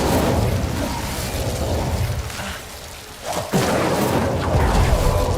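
An Incendio fire spell goes off in the video game Hogwarts Legacy. It gives a roaring, rumbling blast of flame that dips briefly, then swells back with a sharp whoosh and keeps burning loudly.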